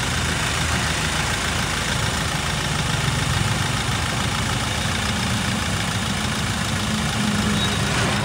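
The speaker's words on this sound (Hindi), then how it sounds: "जो आइडलिंग इंजन साउंड है वो मैं आपको अब चेक करवाऊंगा।" A Mahindra Scorpio diesel SUV engine idles steadily with a continuous low rumbling clatter, heard up close and unchanging, with no voices.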